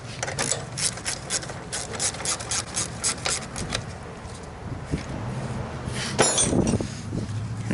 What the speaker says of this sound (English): Now you can tighten the 3 upper strut mount nuts.